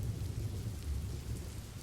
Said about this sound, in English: I'll just settle with some rain